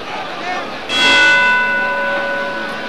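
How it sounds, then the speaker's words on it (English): Boxing bell ringing to end the 11th round of a fight: one bright, sustained ring that swells suddenly and fades slowly under arena noise and commentary. "And there's the bell to end the 11th round."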